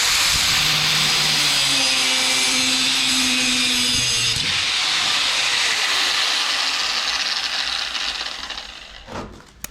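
An angle grinder with an abrasive disc cuts metal, producing a loud, continuous high-pitched whine and hiss that shifts in pitch, then winds down and fades to near silence at the end.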